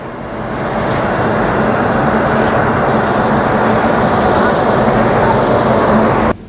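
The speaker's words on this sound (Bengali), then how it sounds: "আজিমগঞ্জ স্টেশন থেকে আমাদের ট্রেন ছেড়ে বেরিয়ে যাচ্ছে" The Sealdah–Jalpaiguri Road Humsafar Express pulls out of Azimganj station on its first commercial run, a loud, steady rumble of the moving train heard from on board, with a faint high whine above the roar.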